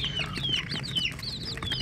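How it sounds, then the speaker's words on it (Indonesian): Village chickens (ayam kampung) raised as broiler stock cluck and chirp close by, a quick run of high, repeated calls over a low barnyard murmur. "Bibit ayam kampung yang bagus yang nantinya akan kita pelihara sebagai ayam pedaging"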